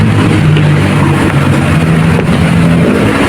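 Toyota Vios engine running steadily before shutdown for an oil change, a loud continuous close-up hum and whir with no speech.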